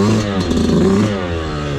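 A 2022 Yamaha YZ125 two-stroke dirt bike engine runs at steady, close, loud revs for about two seconds, with a rough buzzing drone and a slight swell near the middle.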